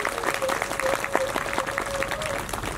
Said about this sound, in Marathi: टाळ्या वाजवून त्यांचं स्वागत करा.